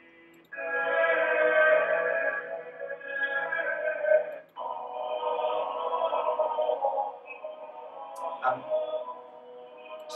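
Several voices sing sustained chords in twelfth-century Notre Dame polyphony, Viderunt Omnes, with long held tones that shift at a few points, at moderate level with a slightly distant, recorded quality.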